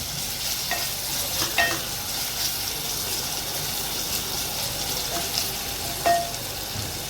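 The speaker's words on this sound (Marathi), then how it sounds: "कांदा टाकला आता थोडासा घासून घ्यायचा आहे आणि मिरची पण याच्याच बरोबर टाकायची" Onion with green chili, mustard seeds and cumin fries in a pan with a steady soft sizzle, broken by a few light scrapes of a spoon stirring, moderately close.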